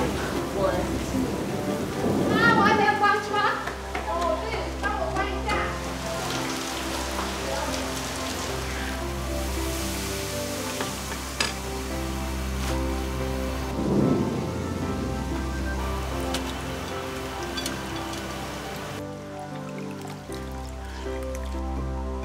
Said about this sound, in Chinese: 哎，下雨嘞。